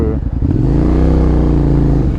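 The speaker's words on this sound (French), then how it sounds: "J'ai failli caler avec ma propre moto." A motorcycle engine sputters, nearly stalling, and then revs up, rumbling loudly and close by with a rising, throaty pitch.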